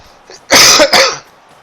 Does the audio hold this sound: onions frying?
no